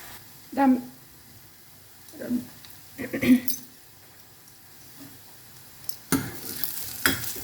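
Food being stirred in a pan over a medium flame: scattered scraping strokes come at irregular intervals over a low background sizzle, some close and fairly loud, with quiet gaps between them.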